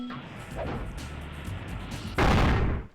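Fireworks burst at the end of a level in the video game Spyro: Year of the Dragon, a sudden loud booming crackle that bursts in near the end after a quieter rumbling stretch.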